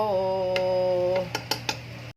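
Utensils clinking against dishes while plating sautéed corn with malunggay, a few sharp metallic taps and chinks following a steady humming tone, close and fairly quiet.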